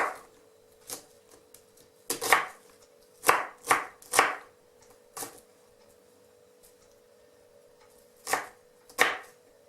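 Onion diced into small cubes with a knife on a cutting board, heard as sharp, close chops arriving in short irregular bursts separated by pauses.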